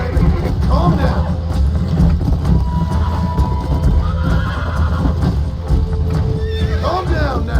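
Horse in Red Dead Redemption whinnies loudly several times over clip-clopping hooves, with someone talking to it throughout.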